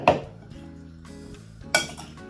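Shrimp pasta ingredients with black pepper get mixed in a pan, making a couple of distinct metal clanks of utensil on pan over a quiet background.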